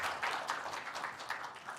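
Audience applause at a Korean journalists' association anniversary ceremony, a steady wash of many hands clapping at moderate, even loudness for a couple of seconds with no voices over it.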